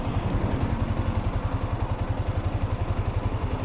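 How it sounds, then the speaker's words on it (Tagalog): A two-year-old Yamaha Sniper 155R motorcycle engine idles steadily with a fast, even putter, close by beside a highway, with no voices. "Ito yung tunog ng makina niya after 2 years."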